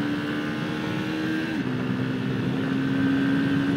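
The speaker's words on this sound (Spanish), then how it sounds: "Esta es como la prueba de velocidad de esa moto" An NHX 190i motorcycle runs at high revs during a speed test, a sustained engine whine holding a steady pitch with a brief dip partway through, mixed with wind rush.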